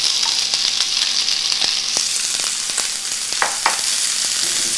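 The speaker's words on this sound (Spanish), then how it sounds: "y aquí ponemos las cebollas." Red and white onions fry in butter in a pan with a steady, loud sizzle and a few light utensil scrapes on top; no speech.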